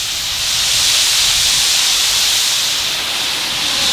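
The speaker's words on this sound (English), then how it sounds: "We're going to create a steam." Loud, continuous steam hiss in a hot pan while cooking burgers, broad and airy, holding steady for several seconds with a slight swell; no talking.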